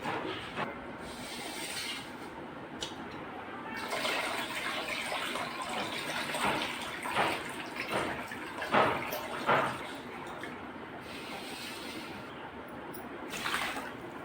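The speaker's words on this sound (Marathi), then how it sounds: "तीन पाण्याने मी स्वच्छ तांदूळ हा धुवून घेतला" Water sloshes and swirls steadily as rice grains are washed in a vessel, with occasional splashy surges and no speech.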